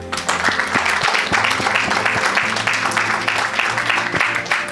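Congregation in a church clapping together, a steady dense applause that fills the whole stretch, with some voices mixed in beneath it.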